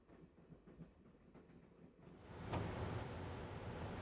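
A train in the video game Broken Sword: The Shadow of the Templars rolls along with a soft rhythmic clatter that swells into a loud, steady rushing roar halfway through.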